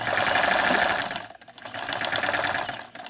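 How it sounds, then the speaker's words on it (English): A Brother Riviera 1681 sewing machine stitches in a loud, steady mechanical whir, pausing briefly midway, then running again at a slightly quieter level before slowing to a stop. "so this is the sewing machine"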